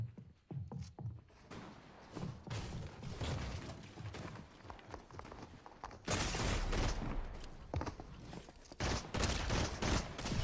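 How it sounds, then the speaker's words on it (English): Rapid shotgun blasts and gunfire in the video game Fortnite, a dense run of loud bursts and impacts with heavier clusters toward the end, no talking. "Is that a shotgun?"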